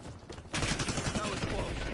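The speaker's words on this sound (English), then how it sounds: "Taking fire." Shooting in the first-person shooter Call of Duty, aimed at the player: a quieter stretch breaks into a loud, sustained burst of rapid gunfire crackling over dense battle noise.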